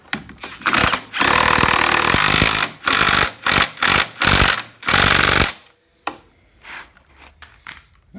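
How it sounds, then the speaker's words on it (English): A power tool drives down 9/16 hardware bolts on the spindle of a Polaris Ultra 680 snowmobile, loud rattling impact bursts in several short runs with pauses, fading to quiet clicks near the end. "So now all we're gonna do is we're gonna tighten everything down"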